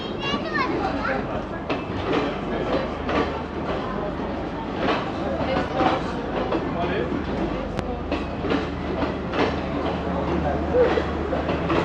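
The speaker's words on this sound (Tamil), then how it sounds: "இது வந்து நானோயா போகிற ட்ரெயின்." A train passes on the Nanu Oya line in the Ella hill country, its steady rolling rumble and rail clatter continuing under the chatter of playing children and nearby voices.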